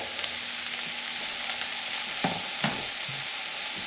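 Mushrooms sauté in hot oil in a pan for a goulash, a steady soft sizzle with a few louder bursts of stirring and scraping partway through. No one speaks.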